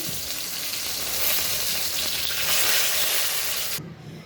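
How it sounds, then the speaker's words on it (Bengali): Fish pieces fry in hot oil for a thin potato fish curry, giving a loud, steady sizzle that holds for several seconds before dropping off sharply near the end. "মাছগুলো সুন্দর করে ভেজে নিচ্ছি"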